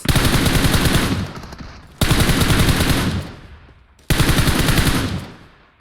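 Three loud, close bursts of rapid machine-gun fire in a video game, each starting abruptly and tailing off over about two seconds, with no talking.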